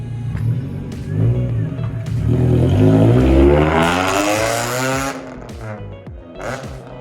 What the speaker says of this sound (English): let's hear the exhaust now that there's no leak